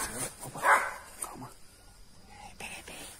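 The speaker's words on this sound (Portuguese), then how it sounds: "E os cachorros não param de latir aqui." Dogs bark outdoors at night, giving a few sharp barks and yips that sound somewhat distant. Quiet, hushed voices talk between and over the barking.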